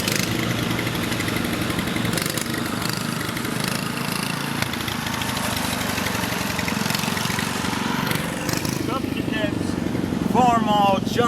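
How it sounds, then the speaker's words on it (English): Antique tractors and steam engines chug and idle together at a steam show, a dense, steady mechanical rumble with a voice talking over it throughout. "there's steam engines right over there. There's antique tractors running around"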